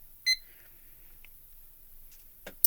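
A small digital timer supplied with a photopolymer stamp-making machine is set to six seconds, giving a short, sharp electronic beep followed by faint button clicks and a soft knock in a quiet room.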